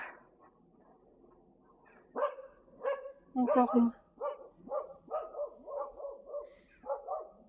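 Dogs bark close by in a quick run of sharp, loud barks with a few whimpering yips, after a short stretch of quiet where a person speaks briefly.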